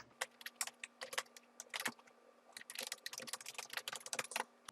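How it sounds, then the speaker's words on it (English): Quick clicking keystrokes on a computer keyboard while registering an account, close and fairly quiet, coming in irregular bursts and flurries with no talking. "and type a password"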